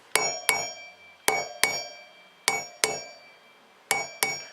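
Sharp metallic taps ring out in pairs as a hammer strikes the outer race of a dual-sport motorcycle wheel bearing, about eight strikes with brief ringing decay, close and fairly quiet, with pauses between pairs.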